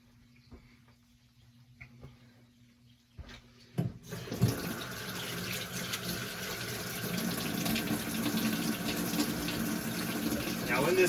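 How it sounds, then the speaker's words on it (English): Rice rinsed under a running kitchen tap, a few quiet knocks and clinks first, then a steady close rush of water filling and splashing in a container, growing slightly louder to the end. "rinse your rice. It helps to remove the starches from the rice."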